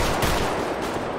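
Gunfire in a GTA roleplay video game, a quick burst of sharp shots in close succession over a dense, noisy background.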